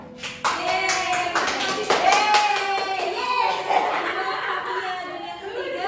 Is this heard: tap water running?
no